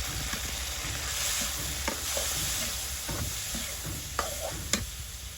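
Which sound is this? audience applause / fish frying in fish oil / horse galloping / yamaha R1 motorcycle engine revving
fish frying in fish oil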